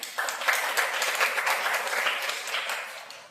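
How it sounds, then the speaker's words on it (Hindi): A congregation at a Sunday church service breaks into hearty applause, many hands clapping in a dense crackle that swells quickly and tapers slightly near the end. "एक जोरदार ताली बजा।"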